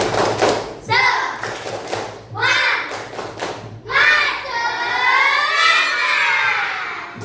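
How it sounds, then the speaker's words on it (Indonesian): A class of children does a rhythmic cheer clap, with sharp patterned hand claps in several quick bursts, followed by loud sustained shouting voices, all close by. "Tepuk semangat."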